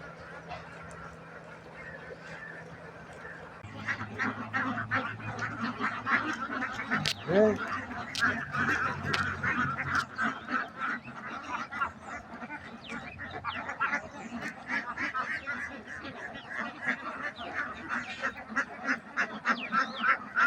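A flock of ducks quacks steadily outdoors in a paddy field, many overlapping calls in a busy, continuous chorus, with a brief voice partway through.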